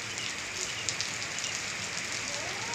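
Steady rain falls in an even, continuous patter with soft scattered drops and no voices.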